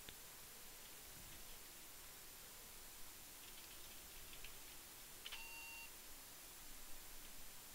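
A PC speaker under DR DOS emits faint, thin beeps while a binary file is typed to the screen, a few short tones and one longer tone over a soft hiss, with no voices.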